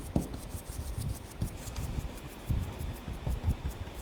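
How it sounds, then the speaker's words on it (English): Sandpaper rubs over a freshly stenciled painted Christmas decor surface in soft, uneven scratchy strokes about twice a second, quiet and close, with no voices. "just grab a little bit of sandpaper and rub along"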